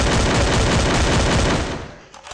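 Dense, rapid bursts of automatic gunfire from a Free Fire battle royale match, loud and continuous for about a second and a half before tapering off into quieter scattered shots.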